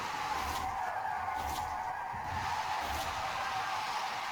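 Tires on a BMW screech steadily through a drift in the racing game Forza Horizon 5, a loud continuous squeal with a faint engine roar underneath.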